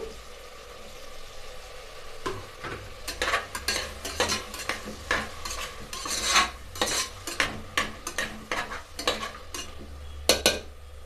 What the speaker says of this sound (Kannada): ಇವಾಗ ನಾನು ಬದನೆಕಾಯಿ ಹಾಕ್ತೀನಿ ಇವಾಗ ಮೈಸೂರು ಬದನೆಕಾಯಿ